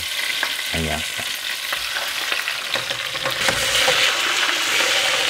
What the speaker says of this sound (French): Et là, la viande, elle est en train de croûter dans la marmite